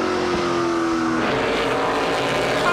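Onboard engine roar from Jamie Krizek's race car in a 2018 NASCAR Pinty's Series event at the Luxxur 300, loud and continuous, with the engine note shifting partway through as the car changes gear.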